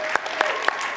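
A church audience applauds for Sophia, a brief burst of clapping with a few sharp, distinct claps standing out in a second-long moment.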